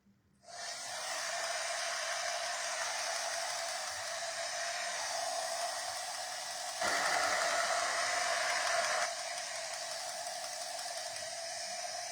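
A heat tool blows a steady, loud whoosh to dry wet stencil paint, running nonstop for about twelve seconds and briefly strengthening partway through, with no voices over it.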